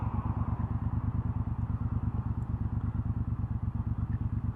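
A 2018 Triumph Bobber 1200 motorcycle on a wet day, its twin engine thumping in a steady low rhythmic pulse, close and even throughout, with no talk.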